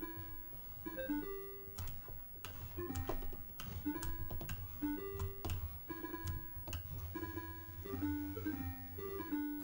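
SEGA Pico Art Studio toy playing the ABC song, plucked, guitar-like electronic notes in a quick bouncy melody with crisp clicky attacks, moderately quiet and with no talking.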